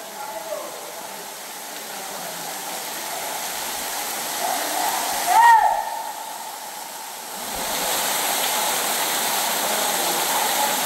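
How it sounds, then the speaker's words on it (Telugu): Tumbura Theertham waterfall pours heavily during rain, a broad steady roar of rushing water that swells louder toward the end, with a brief knock midway and people talking. "ఎటు చూసినా వాటర్ ఫాల్సే బీభత్సంగా పడుతున్నది వాటర్ ఫాల్స్."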